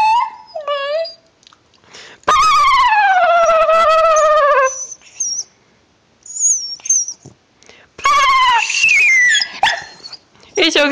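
A dog whimpers and cries in long, high, wavering whines, with short pauses between bursts; a soft voice murmurs quietly in the gaps.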